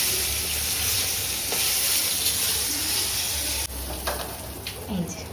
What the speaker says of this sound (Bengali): ওই কড়াইতেই শোল মাছ ভাজবি?